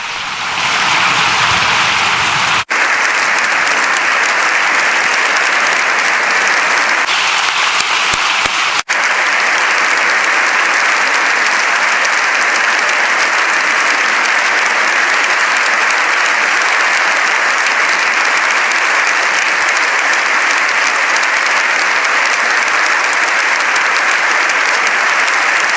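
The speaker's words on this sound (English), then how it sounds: "Sustained applause again for Pope Leo" Sustained applause fills the Spanish Parliament chamber for Pope Leo XIV, a loud, dense, unbroken roar of many hands clapping that continues for over twenty-five seconds with no speech on top.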